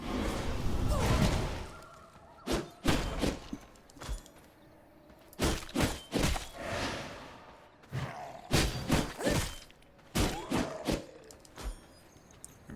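Objects break in the vampire survival game V Rising: a string of sharp smashing thuds and crashes in irregular clusters, with swooshing hits, all fairly close and punchy.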